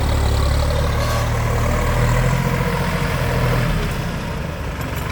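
A three-cylinder Massey Ferguson 4707 tractor engine runs steadily at close range, a loud continuous low diesel rumble throughout with no voices.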